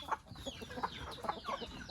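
A large rooster clucks in short, repeated bursts close by, with several brief calls spread over a couple of seconds against a faint background.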